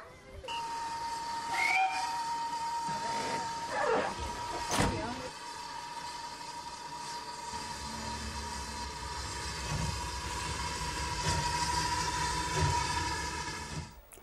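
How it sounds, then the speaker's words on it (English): A long, steady steam whistle blast rings out over a rumbling, hissing train, with a few clanks as it gets moving. "Oh, the guard's blowing his whistle. That means it's time to go."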